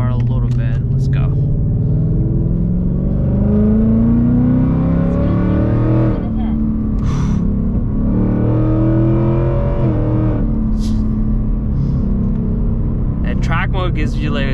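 2024 Ford Mustang GT in track mode, engine rumbling and revving through pulls and shifts with occasional exhaust pops and burble, heard from inside the car while a person talks over it.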